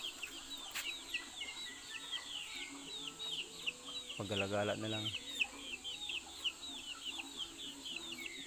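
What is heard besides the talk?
chickens and chicks clucking on a farm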